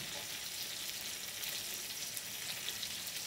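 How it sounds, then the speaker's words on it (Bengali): Oil sizzling in a hot wok, a steady, even hiss and crackle that stays constant throughout, close and fairly soft, with no voices. "কড়াটা গরম হয়ে গেছে, তেলটা দিয়ে দিলাম"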